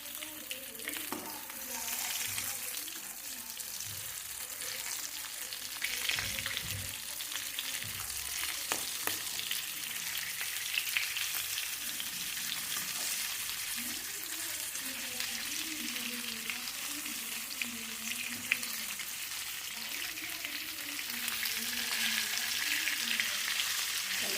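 Stuffed green tomatoes, tomato yennegayi, fry in oil in a pan with a steady, close sizzle that stays even throughout, and a faint voice murmurs underneath.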